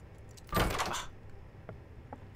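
A short metallic jangle of keys being picked up in the Roblox horror game Doors, one brief bright rattle followed by a couple of faint clicks in a quiet room.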